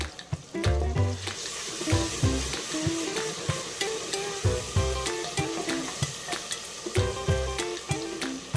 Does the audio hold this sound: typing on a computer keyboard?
no